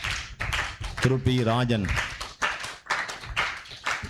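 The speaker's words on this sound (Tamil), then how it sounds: "கைதட்டுவோம்" Audience clapping during a children's Sunday service in a CSI church, a steady patter of many hands, continuing under a voice reading names over a microphone.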